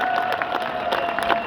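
An audience claps at an industry report presentation, a dense wash of many hands with a few cheers, loud and steady across a couple of seconds.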